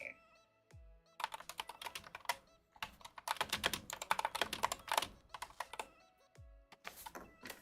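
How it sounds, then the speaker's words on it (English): Someone types on a computer keyboard close up, producing loud clattering keystrokes in quick irregular bursts separated by short pauses. "I know it's super loud when I type on here"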